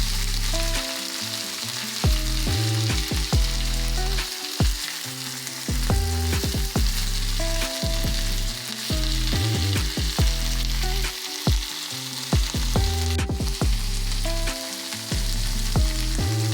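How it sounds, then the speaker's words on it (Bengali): Chicken pieces sauté in a pan with turmeric, coriander, cumin and chilli powders and salt, a steady loud sizzle broken by repeated scraping stirs throughout, no voices. "সমস্ত মশলাগুলোর সাথে চিকেনের ড্রেসটাকে খুব ভালো মতো করে কষিয়ে নেব"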